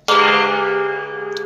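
A gold-plated gong is struck once, giving a loud, bright metallic clang that rings on with a steady, slowly fading shimmer and no talking.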